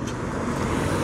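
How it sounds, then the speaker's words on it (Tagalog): A car passes close by on a road in Kuwait, a brief broadband whoosh of tyres and engine that stays loud and steady for about a second. "Ayan, may sasakyan."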